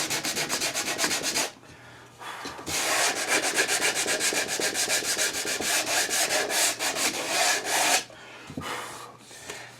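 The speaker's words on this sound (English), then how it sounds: "I call this hard sanding when I put a stiff block behind the sandpaper because I want to use it like a rasp." Cherry wood being hard-sanded with sandpaper backed by a stiff block, used like a rasp, giving loud, close, rhythmic back-and-forth rasping strokes in two long runs separated by a short pause.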